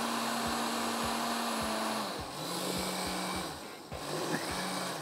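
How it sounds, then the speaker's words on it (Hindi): A blender whirs steadily while blending butter chicken makhani gravy, its motor holding a constant drone with brief dips in pitch, running alone without talk. "एंड इसको अच्छे तरीके से ब्लेंड कर लें सारी चीज़ें।"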